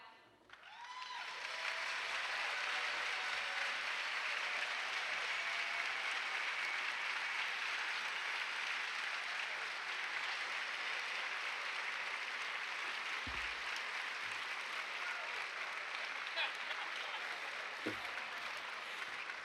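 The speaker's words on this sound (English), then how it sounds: "let me bring out my players for just a round of applause" An audience at a school convocation breaks into long, sustained applause that swells quickly and holds at a steady, moderately distant level, with a faint voice briefly audible beneath the clapping.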